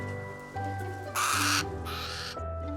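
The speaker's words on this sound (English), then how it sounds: "this is Button, the gorgeous burrowing owl, and she's a grown-up" A small adult burrowing owl at a zoo calling: low, steady hooting tones repeated in stretches, with a harsh, rasping burst in the middle, heard clearly with no talk over it.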